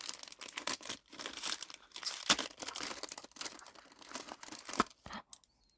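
Manga and merchandise package being opened: busy, close crinkling of plastic wrap and paper with sharp tearing bursts in irregular flurries, ending in a short quiet stretch.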